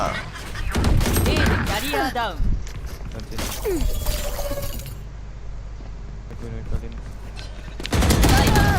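Gunfire rattles in a video game, a dense burst of shots opening the passage and another at the end, with a voice talking over the middle stretch amid game noise.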